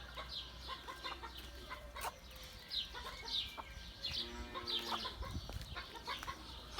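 An Ispanish crossbreed hen clucks in short repeated calls, fairly close in a quiet yard, with other faint fowl sounds around.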